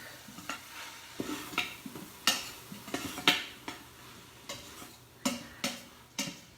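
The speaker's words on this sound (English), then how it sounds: "So I'm going to saute approximately 3 to 5 minutes for the kale" Kale and garlic sauté in a pan with mushrooms as a utensil clinks and scrapes against the pan in an irregular series of close, sharp taps over a faint background sizzle.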